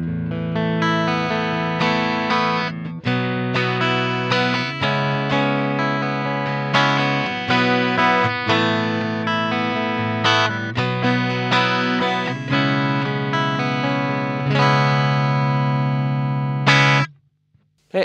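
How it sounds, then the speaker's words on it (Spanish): Strandberg Boden Metal 8 NX guitar in vintage mode, both pickups switched to single coil, rings out in a continuous run of clean chords and picked notes for about seventeen seconds before stopping abruptly. "Está buenísimo combinar este modo vintage con los dos micrófonos y ponerlos en single coil."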